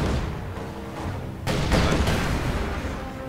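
Heavy anti-tank gunfire booms amid a continuous rumbling din in Company of Heroes 2, with a sharp blast midway followed by sustained roaring.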